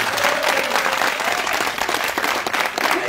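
Audience clapping fills a hall at a gathering with Sierra Leone's First Lady, a steady wash of many hands, fairly loud and continuous throughout.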